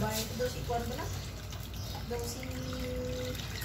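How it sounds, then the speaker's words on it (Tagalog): Water pours and trickles into a pot of chicken soup, a soft running splash under a person's talk. "Tapos nilagyan po natin ng tubig."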